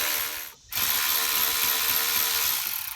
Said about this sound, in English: I'm just going to remove the carbs. These are 6 mil socket heads.